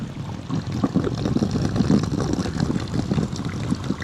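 Hot spring water flows from its source up a mountain, a steady close bubbling trickle and gurgle without talking.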